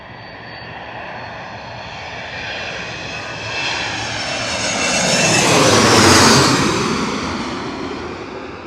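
An airliner on approach to LaGuardia Airport in Queens, New York, roars past with its engines swelling gradually to a loud peak and then beginning to fade as it passes overhead.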